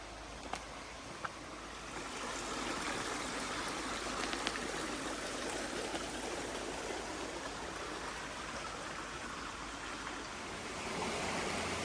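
A small jungle creek flows somewhere below, giving a soft, steady broadband rush of water that stays even and fairly faint, with a couple of small ticks early on and no talking.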